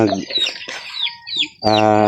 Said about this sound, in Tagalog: Ito po yung kinulong namin na manok